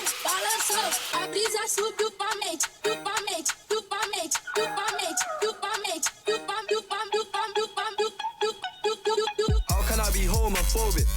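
Mashup drop built on a chopped melodic loop, with dense stuttering synth chops and punchy beats running loud and continuous, shifting to a heavier bass-laden section near the end.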